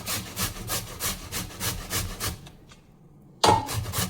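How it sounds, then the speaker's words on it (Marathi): Peeled bottle gourd rasps against a grater in quick, even strokes, about four per second, close and fairly quiet, with a short pause before the scraping resumes. "मी व्यवस्थित ह्या भोपळ्यांना सोलून घेतला, त्याला किसून घेऊयात।"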